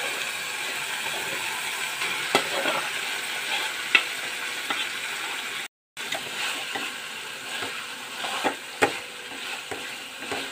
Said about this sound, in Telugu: ఇప్పుడు మనం ఉడికించి మెదిపి పక్కన పెట్టుకున్న గోంగూర వేసి కలుపుకోవాలి